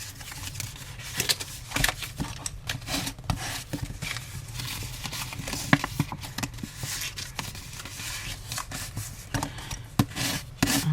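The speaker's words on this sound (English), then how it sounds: "I'm going to burnish and fold and burnish all of your score lines." A paper card's score lines are burnished and folded, giving soft, irregular rubbing and scraping strokes with small taps, close and quiet, with no talking.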